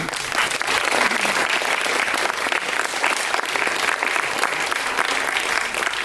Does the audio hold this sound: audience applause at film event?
yes